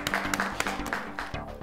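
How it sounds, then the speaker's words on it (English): A classroom or studio audience applauds during a children's spelling quiz, steady close clapping from a small group with a voice faintly underneath. "Let's give him a round of applause."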